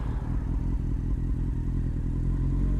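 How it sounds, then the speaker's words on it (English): Motorcycle engine running steadily while riding in traffic, a continuous low, loud drone with rattling clatter throughout, no voices. "Is that my bike making such noise?"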